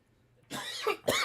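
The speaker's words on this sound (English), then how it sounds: "And I will be coughing my face off for sure." Two harsh, forceful coughs close by, the second following soon after the first, after a moment of near silence.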